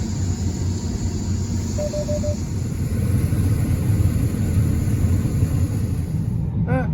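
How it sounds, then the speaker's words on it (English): A big grain auger runs continuously during a rainy soybean harvest, a steady loud mechanical rumble and drone that holds throughout with no pauses. "Big auger."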